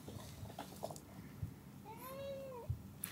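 A cat gives one clear, drawn-out meow in the middle of the clip over quiet indoor background noise, with a few faint knocks before and after it.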